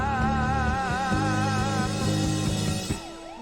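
A wavering, rising-and-falling siren tone in a 1971 chart hit, over a steady music backing with organ-like chords and a beat, loud and continuous.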